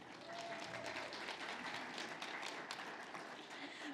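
An audience at a Texas AFL-CIO COPE convention applauding, a dense steady patter of many hands clapping heard from a moderate distance, holding at an even level throughout.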